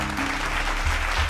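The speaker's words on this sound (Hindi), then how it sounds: "हाँ तो ताली बजा दीजिए।" An audience claps steadily throughout at a rural development and panchayati raj training session, a dense, even burst of applause with no speech over it.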